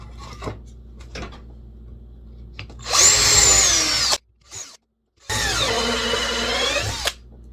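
A power drill whines loudly as it bores into scrap 2x4 lumber in two sustained bursts separated by a brief pause, with faint tapping beforehand.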